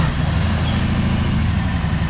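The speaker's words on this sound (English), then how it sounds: "as soon as the engine starts, you're gonna let off of it" A steady, loud ATV engine idles close by, its low rumble even and unbroken from start to finish, with no voices over it.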